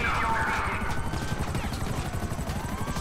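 Akula helicopter from GTA 5 flying, a steady loud rotor chop with dense low thumping throughout, engine whine layered above, continuous and close.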